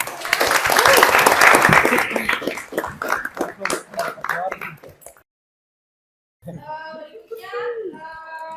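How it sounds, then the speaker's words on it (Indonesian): Classroom applause for a student group at a vocational high school, with a burst of loud clapping that thins into scattered claps and fades out, followed by a pause and then voices talking. "Ya, beri aplaus untuk kelompok satu."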